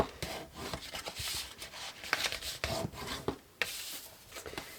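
Burnishing scored cardstock for a lidded milk carton craft, a close dry rubbing and rasping of a tool pressed along paper in repeated back-and-forth strokes with a few sharper scrapes.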